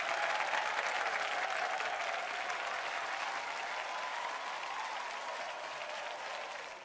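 Sustained applause from a large audience in the video game The Idolmaster 2 fills the space, a dense wash of clapping that stays strong before easing slightly at the end.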